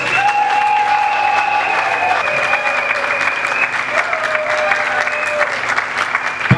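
Sustained applause from a crowd fills a pastor's investiture ceremony, steady and loud, with a sustained tone ringing over the clapping.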